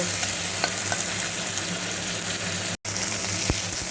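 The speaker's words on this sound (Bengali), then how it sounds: "চিংড়ি মাছগুলোকে হালকা করে ভেজে নেব" Steady oily sizzling of shrimp shallow-frying in a kadai until lightly reddened, with a few light clicks and stirring scrapes over the continuous crackle.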